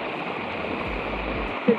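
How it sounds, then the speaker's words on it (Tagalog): Lagaan waterfall in Siquijor, a steady broadband rush of falling water heard close, with a brief voice-like sound near the end. "Ito yung waterfall."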